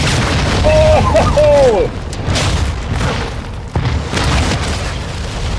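The observatory blown up in Warzone 2: a loud, deep booming explosion rumbling on for several seconds, with a second thud later, while a player shouts over it and a short radio tone sounds.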